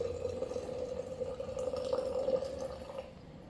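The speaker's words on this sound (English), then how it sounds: "And then we're just going to pour our water in." Hot water pours into canning jars in a steady, filling trickle with a rising tone, fairly quiet and close, with no talking.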